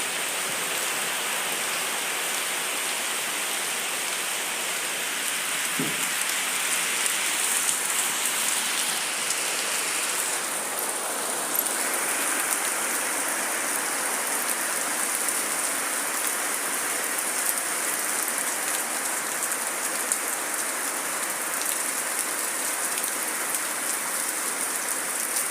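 Steady rain pours down onto surfaces in an even, continuous hiss for the whole stretch, fairly loud and close, with a single faint knock early on and no talk.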